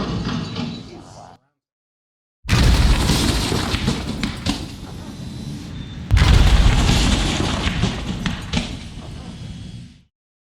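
Sudden loud blast from a battery fire erupts after a silent gap, followed by sustained roaring crackle, then a second heavy burst of explosive noise that rumbles on for several seconds before cutting off.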